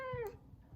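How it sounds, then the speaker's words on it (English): A pet cat gives a single short, clear meow that falls in pitch, fairly close and faint, over a quiet room. "I do have a cat that's deciding to join the reading."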